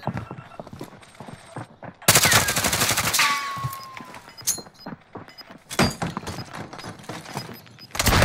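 Video game battle gunfire with sharp shotgun blasts and rapid shots in dense bursts, loud and close, clustered after a quiet opening and again near the end, with a voice briefly talking.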